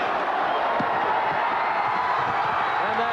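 A basketball arena crowd in Amherst roars as the UMass Minutemen win their third straight Atlantic 10 Conference Tournament title, a dense continuous wall of cheering and whooping, loud and sustained throughout.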